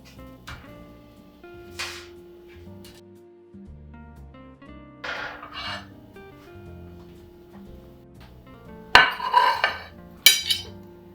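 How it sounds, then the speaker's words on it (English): Roasted acorn squash set down on a plate with a few light clinks of dish and utensil, followed by sharper clattering of plates and cutlery near the end, with no talking. "So I'm just going to place it on a plate."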